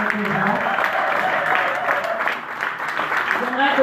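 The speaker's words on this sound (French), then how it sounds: "Est-ce que nous pouvons acclamer le Seigneur encore?" A church congregation applauding during a service, sustained clapping with cheering voices throughout.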